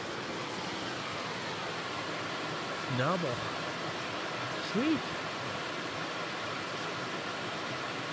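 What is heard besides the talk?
waterfall at Split Rock State Park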